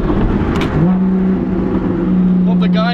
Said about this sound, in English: I don't think there's another exhaust out there that would sound better than a top speed custom straight pipe exhaust